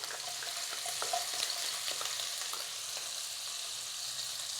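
Crushed ginger and garlic sautéing in vegetable oil over a medium flame, a dense, even sizzle with light spatter pops and occasional stirring scrapes running throughout.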